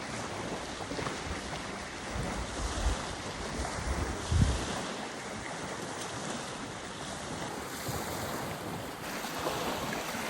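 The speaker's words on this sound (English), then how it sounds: "Ocean's calling." Ocean waves wash steadily onto a red-sand beach, a continuous rushing surf mixed with wind buffeting the microphone.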